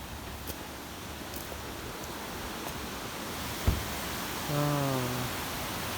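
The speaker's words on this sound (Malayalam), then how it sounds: "എവിടെയോ വെള്ളം വീണ സൗണ്ട് ഉണ്ട്" Water falls somewhere in the distance, a soft, continuous rushing wash, with a brief knock and a short tonal call near the end.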